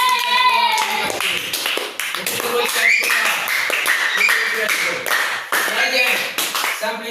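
Applause and clapping from an audience cheering a young performer at a talent show event in Mbuji-Mayi, steady and fairly loud for several seconds with scattered voices and cheers mixed in.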